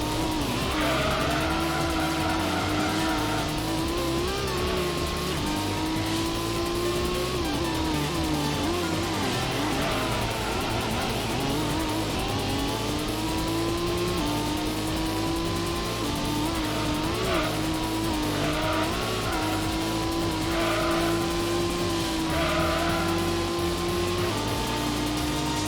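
Race car engine in the Gran Turismo video game roars and shifts pitch as it accelerates and drops through the gears. Tires squeal and skid almost continuously over loud, steady engine noise, with no talking.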